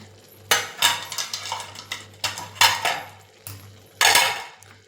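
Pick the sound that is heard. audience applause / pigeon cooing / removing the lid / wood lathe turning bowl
removing the lid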